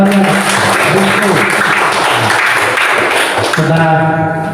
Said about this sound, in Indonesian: Beri tepuk tangan dulu untuk temannya.